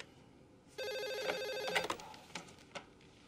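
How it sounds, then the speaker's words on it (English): A telephone rings in an office, with a steady electronic ring burst followed by a few fainter clicks and rings as it fades, heard alone without speech. "You have a phone call from Miss Isabel's credit card company"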